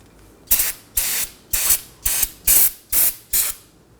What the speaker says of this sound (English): so now I'm going to hit it with some brake cleaner